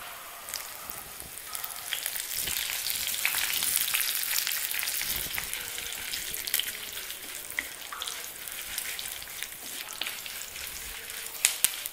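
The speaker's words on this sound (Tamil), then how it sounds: "எண்ணெய் நல்லா சூடானதுக்கப்புறமா கொஞ்சம் கடுகு. கடுகு வெந்ததுக்கப்புறமா கருவேப்பிலை." Mustard seeds and curry leaves fry in hot oil for drumstick-leaf curry, giving a steady close sizzle with scattered pops and crackles throughout, no voices.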